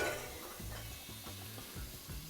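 Diced onion sizzles in oil in a pot for chili con carne, a constant frying hiss broken by a few soft stirring scrapes, heard up close with no talking.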